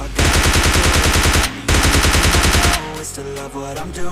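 Loud automatic gunfire from the PUBG Lite shooter game, two long rapid bursts with a brief break between them, followed by softer game sounds and a fading tail.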